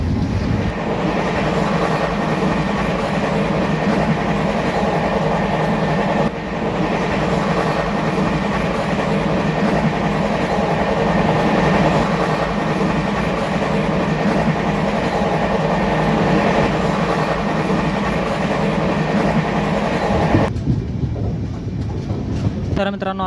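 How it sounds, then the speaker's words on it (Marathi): The Nanded Express runs at high speed, producing a loud, continuous rumble and rattling clatter of wheels on track, heard from on board, and the tone shifts briefly near the end. "आत्ताच काय जबरदस्त स्पीडमध्ये आपल्या ट्रेनने घाटनांदूर रेल्वे स्टेशन स्किप केलेलं आहे"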